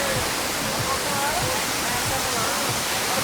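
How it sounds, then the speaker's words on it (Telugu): A waterfall on the Kedarnath trekking route roars as a loud, continuous broadband rush of falling water, with faint voices beneath it. "ఒకసారి చూడండి ఎంత బాగుందో వాటర్ ఫాల్స్"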